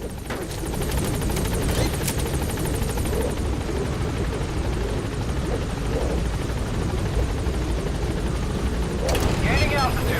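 The Pequod helicopter in Metal Gear Solid V hovers at a landing zone with a loud, steady rotor and engine roar lasting the whole stretch, and a short burst of gunfire or another sharp game effect near the end.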